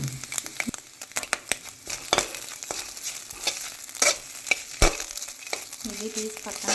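An egg frying in a pan with a sprinkle of pepper powder, a soft crackling sizzle broken by sharp clicks and scrapes of the spatula, close and fairly quiet, no speech.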